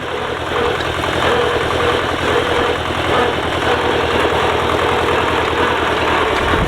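An old tractor engine, bought cheap and restored, runs steadily while plowing a field, its mid-pitched rumble loud and close with a constant vibrating drone throughout.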